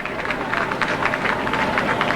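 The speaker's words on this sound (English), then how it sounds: "People are clapping." Crowd at a rescue scene where a trapped child is being brought out, with dense steady clapping and excited cheering, loud and continuous, with voices mixed into the noise.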